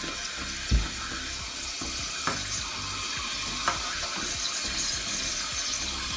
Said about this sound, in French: Et maintenant, nous allons laver du riz.